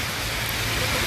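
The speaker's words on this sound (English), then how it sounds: "Now see the heavy rain." Heavy rain falls in Paris as a dense, steady hiss that stays even and close with no breaks.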